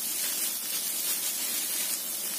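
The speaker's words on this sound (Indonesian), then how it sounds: "Ini kita goreng sangrai dulu ya, biar agak asap." Ingredients dry-roasting in a pan for a snakehead fish pindang dish, giving a steady, close hiss and sizzle that holds evenly throughout with no voices.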